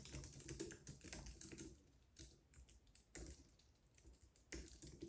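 Rapid typing on a computer keyboard during software testing work, with irregular bursts of clattering keystrokes separated by short pauses, fairly close and alone without speech.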